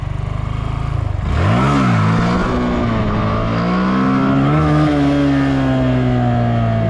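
Car or motorcycle engine rising sharply from idle as the throttle is opened, pitch climbing and dipping then holding a loud sustained rev, close and steady with no talk.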